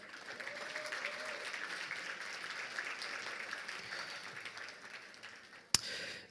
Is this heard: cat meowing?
no